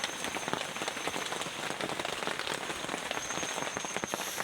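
Steady rain pattering densely on a surface, loud and close, with constant drops and no voices.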